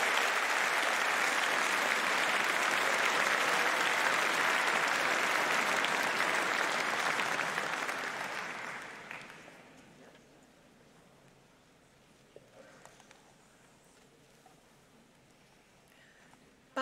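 Audience applause for engineering graduates at a university commemoration day ceremony, a loud sustained clapping crowd that fades out after about nine seconds, leaving a quiet hall with faint rustles.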